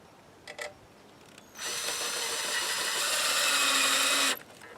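A power drill drives self-tapping screws into duct work for a Rheem hybrid water heater, producing one loud, close, sustained whir lasting under three seconds, preceded by faint clicks and ending abruptly.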